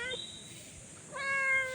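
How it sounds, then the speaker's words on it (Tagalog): A house cat meows twice, a short call then a longer rising one, close by and clear, with a quiet room around it. "Lumapit sa aking pusa."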